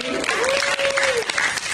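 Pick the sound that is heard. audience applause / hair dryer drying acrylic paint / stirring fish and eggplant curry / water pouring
audience applause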